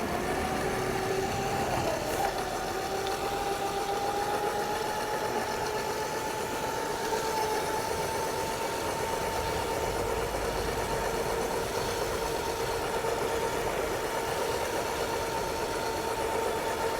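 Scooter engine running steadily through a ride around Lake Harriet in Minneapolis, a continuous mid-pitched drone with a slowly rising tone and constant wind rush, near and loud, with no talking.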